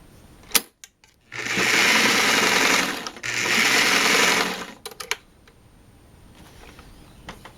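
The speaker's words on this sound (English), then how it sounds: "Try and avoid sewing over needles or pins." A sewing machine stitches a seam on a simple tunic in two loud, steady whirring bursts of a few seconds each, separated by a short pause and framed by sharp clicks and handling noises.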